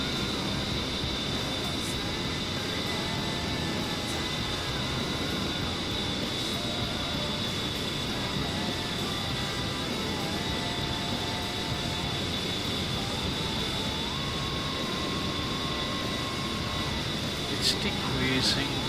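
Twin jet engines of an A-10C Warthog in the DCS flight simulator, throttled back to a steady whine and drone that holds for the whole stretch, with a voice talking over it.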